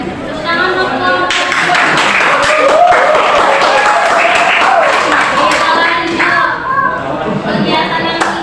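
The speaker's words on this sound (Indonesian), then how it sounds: "Tepuk tangan untuk" Classroom applause during a teaching exam, a group of students clapping loudly and close by with some chatter and children's voices mixed in, building and holding for several seconds.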